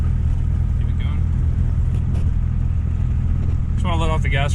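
A car on a safari drive picks up speed, its engine humming low and steady up close while a driver talks briefly over it.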